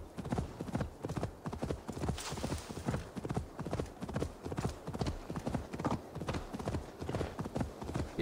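Steady rhythmic hoofbeats of a galloping horse in the video game Assassin's Creed Valhalla, close and continuous, with a faint whinny partway through.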